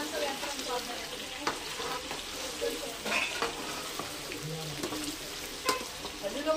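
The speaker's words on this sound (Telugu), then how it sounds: "చక్కగా గోల్డ్ కలర్ వచ్చిన వరకు అయితే చికెన్ వేయించుకోవాలి ఫ్రెండ్స్" Chicken pieces frying in a pan until golden, a dense continuous sizzle with occasional stirring scrapes, close and steady throughout.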